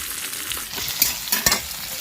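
Peas, cashews, raisins, capsicum and beans sizzle in a pan for fried rice while a spoon stirs them, giving a constant bright frying hiss with a few sharp scraping knocks near the end, close and with no voices.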